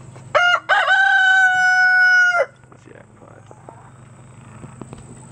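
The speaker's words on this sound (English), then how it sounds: "Come on, chicken. Come on, rooster. Make your noise." A rooster crows loudly and close in a chicken coop, one long call after a short opening note, followed by quieter background clucking and faint farmyard noise.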